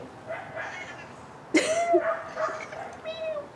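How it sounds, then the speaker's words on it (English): A small, friendly female cat gives a few short, soft meows close by, one slightly louder call in the middle, with faint background noise. "She has the cutest little meows."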